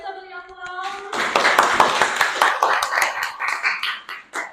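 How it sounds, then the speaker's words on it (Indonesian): A classroom of young pupils breaks into applause during a lesson, a burst of many hands clapping close by that follows a brief spoken phrase and carries on steadily for several seconds. "Ya, luar biasa, beri aplaus."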